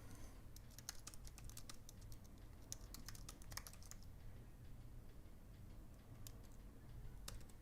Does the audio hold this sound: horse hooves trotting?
no